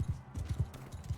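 A horse in the video game Bannerlord, its hooves clip-clopping in a quick, uneven rhythm of about a dozen soft thuds, fairly faint, with a hint of whinny.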